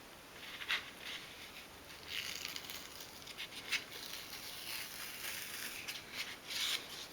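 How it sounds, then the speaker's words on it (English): Printed fabric is slowly peeled away from its paper backing sheet, giving faint, intermittent crackling and soft tearing rustles in short bursts, quiet and close with no talking. "So I'm now going to peel it from the back"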